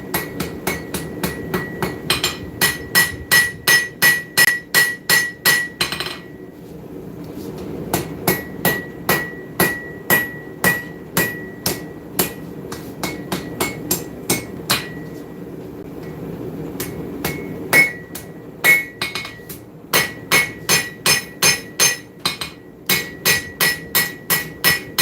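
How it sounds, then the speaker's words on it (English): A turning hammer strikes hot steel while a seax knife is forged. Fast, sharp ringing blows come close and loud in rhythmic bursts, separated by brief pauses. "I'm going to grab that turning hammer"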